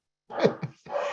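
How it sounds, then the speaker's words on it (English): Pet dogs give a few quick, muffled barks and yelps in a home, brief and low in level, in two short bursts separated by a small gap. "I am sorry about my dogs."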